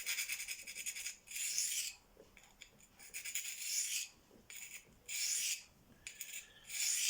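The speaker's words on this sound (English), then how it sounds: "you can hear how coarse them stones are" A knife blade drawn across coarse hand-held Venev diamond stones, making harsh rasping strokes in a steady rhythm of about six distinct scrapes separated by short pauses, close and clear with no talking.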